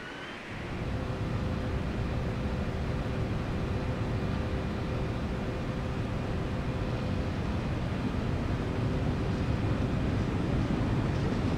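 A LevelD Boeing 767 in a flight simulator rolls for takeoff: a loud, steady roar of jet engines with a broad rushing hiss and faint tonal whine, constant throughout.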